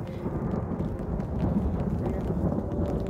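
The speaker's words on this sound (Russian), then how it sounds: "С раскатами грома и накрапывающим дождиком мы с вами подходим к древнейшим гробницам" Low rolling thunder rumbles continuously under soft light rain in the Kidron Valley, a dense, moderately distant roar with faint patter and no clear speech.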